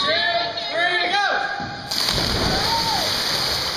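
Voices call out, then a loud splash and churning water follow as people jump into the Current River from above.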